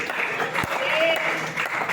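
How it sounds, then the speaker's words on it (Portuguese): A church congregation claps together in a dense, continuous patter of hands, fairly close, with a preacher speaking over it. "bater palmas para Jesus, dar glória a Deus a Ele"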